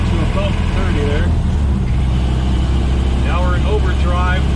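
Model A Ford with a Burtz block engine pulling in second gear at around 30, a steady low engine drone with road rumble, loud and close, while someone talks over it.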